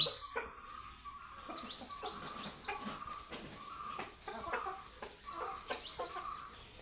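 Several chickens cluck and cackle in quick, uneven bursts, fairly close, with no talking.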